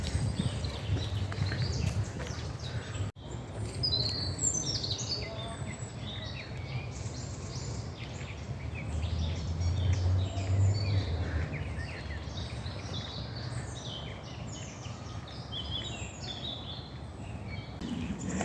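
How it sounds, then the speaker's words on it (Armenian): Many small birds chirp and trill continuously in the open air, a busy layered chorus of fairly close calls over steady outdoor background noise, with no talking. "Լսում եք թռչունների ձայնը։"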